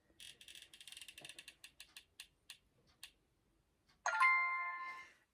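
A tiny decision-maker wheel spins with a rapid run of close clicks that slow and space out as it stops, then a bright ringing chime sounds and fades.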